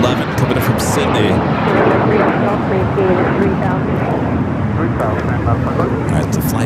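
An airliner bound for Miami turning over LAX, a loud broadband jet rumble with rough texture, steady throughout with what sounds like voices mixed in.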